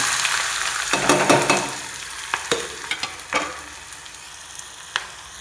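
Chopped onions with a little salt frying in hot oil in a pan, giving a steady close sizzle broken by several sharp crackles and stirring scrapes.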